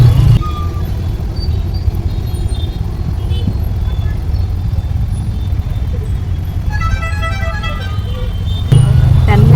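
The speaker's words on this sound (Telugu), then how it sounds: "ట్రాఫిక్ చూడండి" Heavy road traffic in Bangalore on 25th December: a steady, loud roar of cars, buses and engines, with horn toots breaking through from time to time and a brief louder hum at the end.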